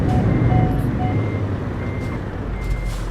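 Steady electronic reversing beeps from a lorry with its own trailer in Euro Truck Simulator 2, repeating at an even pace over a continuous low engine rumble.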